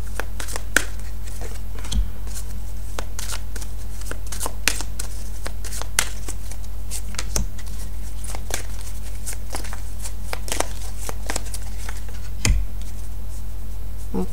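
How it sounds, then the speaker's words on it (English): A fairy oracle card deck being shuffled by hand, giving steady papery riffling and flicking close by with occasional sharper slaps, continuous over a low constant hum with no talking. "So I'm going to shuffle as always"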